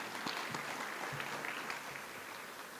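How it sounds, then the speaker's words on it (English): Steady crowd applause, dense and continuous throughout, moderately loud without any voices rising above it. "please give them a big round of applause."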